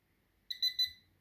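A pinpointer metal detector gives three quick high beeps close to a coin, faint and isolated against near silence.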